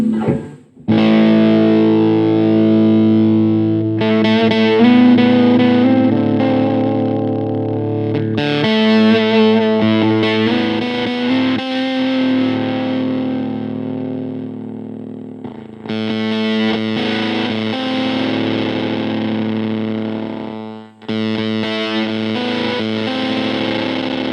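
Heavily fuzzed electric guitar through a ZVEX Mastotron fuzz pedal, sustaining long, buzzing notes, each held for several seconds with brief gaps between, loud and close with no talking.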